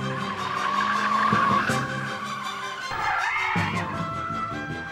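James's Audi accelerates hard during a Top Gear test, its engine droning loud and near with tire noise and gear shifts, the pitch dipping and rising again partway through.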